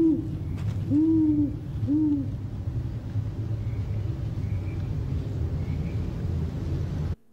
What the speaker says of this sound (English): There is even an owl there.